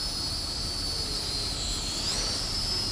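A Kaifeng KF600 WiFi FPV toy drone with reversed rear motors flies nearby, its motors giving a steady high-pitched whine over a broad hiss, with the pitch wavering slightly as it drifts.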